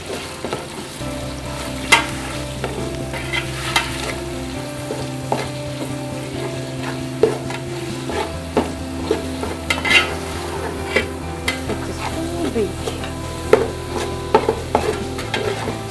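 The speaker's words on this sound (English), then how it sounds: "Minced meat. We are going to fry this until it is brown." Minced meat frying in a pot, a steady loud sizzle with repeated scraping and clinks of a utensil stirring against the metal, no voices.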